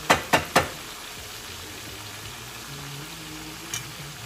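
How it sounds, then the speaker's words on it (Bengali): Catfish frying in a pan with bottle gourd: a steady low sizzle and gentle bubbling, opening with three sharp close clacks of a utensil, another faint tap later. "মাছটাকে আরেকটু ভাজা ভাজা"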